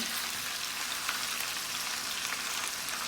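Vegetables fry in a pan for a low-sodium green chicken pipian, giving a soft, steady sizzle with faint crackles and no talking over it.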